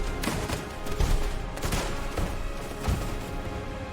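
Bursts of gunfire crack through a battle scene, several sharp, loud shots at irregular intervals over a rumbling, busy background.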